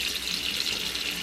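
Tap water runs steadily into a little bowl, a continuous close hiss and splash with no pauses, no voices over it.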